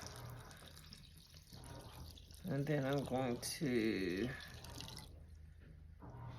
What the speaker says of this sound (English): I'm going to put some water in the corn, just enough to kind of cover up the top.